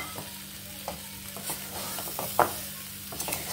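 Jaggery melting in a pan for a sweet-sour amra pickle, stirred slowly over a low flame: a soft, steady sizzle with occasional scraping strokes, close and fairly quiet.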